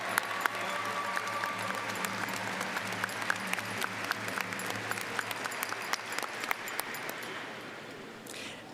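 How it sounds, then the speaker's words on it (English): Audience applause at a high school commencement ceremony for the band and orchestra directors and musicians, sustained dense clapping from a large crowd throughout, a little distant and fairly even. "Let's give them and all our talented musicians a big round of applause."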